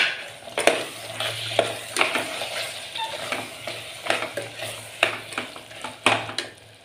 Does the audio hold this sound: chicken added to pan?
yes